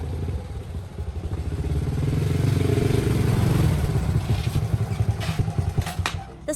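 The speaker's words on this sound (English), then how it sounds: "The sound of a motorbike grew louder, drowning out the piano music." A motorbike engine rumbles loudly, rising as it draws nearer and then roughening with uneven revving, a chaotic noise that swamps a restaurant space with no voices heard.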